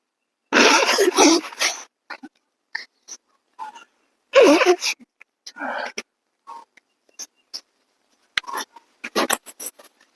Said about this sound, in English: Time out, I got to blow my nose.